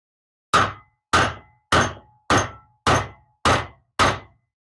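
Seven evenly spaced, sharp metallic taps ring out alone as a tapered roller bearing race is driven into the hub of an Austin-Healey Frogeye Sprite, each strike loud and close with a brief decaying ring.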